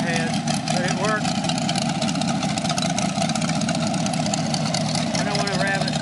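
A 1967 Corvette 327/350 L79 V8 with open headers and a cam idles in a backyard, a steady loud rumble held throughout while someone talks over it.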